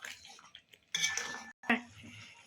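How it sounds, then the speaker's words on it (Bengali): A spoon scrapes and clinks against a pot while chicken curry with capsicum is stirred, in short, irregular bursts separated by brief pauses. "চিকেনটা আরেকবার নেড়ে নিয়ে ভালো করে, নিচে লেগে যাবে নাহলে।"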